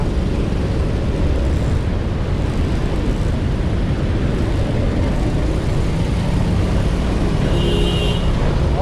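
Heavy road traffic on EDSA, heard as a dense, loud, continuous roar of engines and wind with no clear gaps, with a faint high tone near the end.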